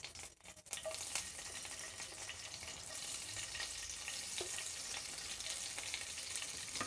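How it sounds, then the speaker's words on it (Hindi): Green chillies fry in hot oil over a medium gas flame, giving a steady, loud, close sizzle that crackles evenly throughout with no talking. "इसमें हम सब मिर्ची को फ्राई कर लेंगे।"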